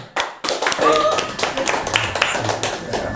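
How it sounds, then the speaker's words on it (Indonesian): Audience at a comedy show breaks into brisk, close clapping that starts abruptly and carries on with uneven density, with a voice speaking over it. "kita panggil Arifin Nade, beri tepuk tangan."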